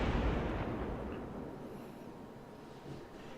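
Battleship main guns firing in the naval combat game World of Warships, a heavy booming blast that opens loud and rolls away into a long, fading rumble with no voices.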